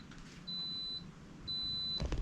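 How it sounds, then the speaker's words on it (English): A home solar battery system with a Powerwall 2 emits two sustained high electronic beeps, each about half a second long, in a quiet room, followed by a brief knock and rustle. "Why is it beeping there?"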